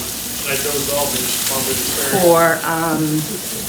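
Water hits a hot frying pan in a home kitchen, raising a loud, steady sizzle throughout while a person talks over it.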